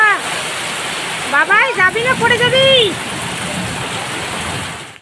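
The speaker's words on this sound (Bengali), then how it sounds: "দেখো এতটা বৃষ্টি হয়েছে" Heavy rain pours down steadily around steps where water has pooled, a dense, loud, continuous hiss. A person speaks briefly over it in the middle.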